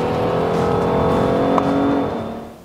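Lexus CT200 hybrid car accelerating on a race track, engine droning loud and close with a steady rising hum that fades away near the end, no voices.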